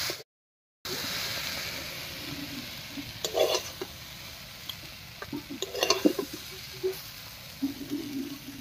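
Kalmi greens cooking down in a pan as their water dries off, giving a quiet, steady sizzle with a few soft stirring scrapes and clicks scattered throughout.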